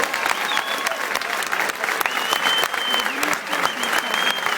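Loud, sustained applause from an audience at a meeting, steady dense clapping with crowd noise and some voices mixed in, lasting throughout.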